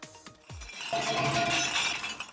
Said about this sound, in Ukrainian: гуркіт від пляшок, що падають у металевий контейнер, може перебудити усю околицю